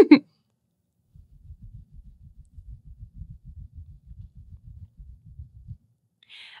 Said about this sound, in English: this is what it sounds like when I pet the mohair